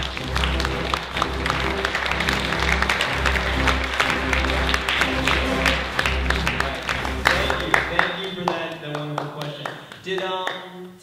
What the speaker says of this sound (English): Let's give this guy a round of applause,